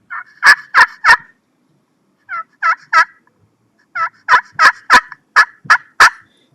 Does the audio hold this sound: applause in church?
no